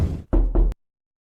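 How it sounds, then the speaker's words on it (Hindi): Quick, firm knocks land on a wooden door, close and loud, followed by sudden silence. "तभी किसी ने दरवाजे पर दोहरी दस्तक दी।"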